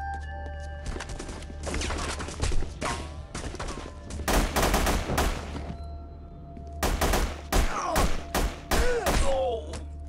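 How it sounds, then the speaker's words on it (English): Gunfire in The Punisher video game, in the meat packing plant level: repeated loud bursts of shots and heavy thuds come in clustered volleys over a steady low hum, with a few pauses between. "Stay here till the gunfire stops."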